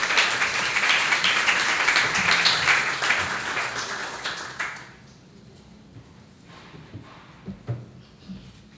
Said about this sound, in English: let's give Deneka a big hand, round of applause to welcome her and all the other panelists